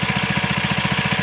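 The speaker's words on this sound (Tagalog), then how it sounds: "medyo maingay po yung ating makina" A small engine drives a power sprayer applying insecticide to fruiting Calixto F1 eggplant, chugging in a steady, rapid, even pulse close by, loud and unbroken, with no voices.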